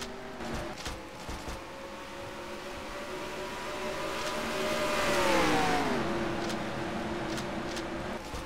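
Race cars accelerating at a green-flag restart in the NASCAR Racing 2003 game at Las Vegas, engine drones rising and sweeping past as the pack pulls away, steady and moderately loud.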